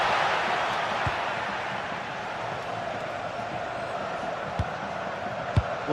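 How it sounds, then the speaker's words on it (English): Football stadium crowd at a Villarreal match, a broad steady roar of many voices held at moderate distance, with a few dull thumps and faint commentary underneath. "Well, just listen to this crowd."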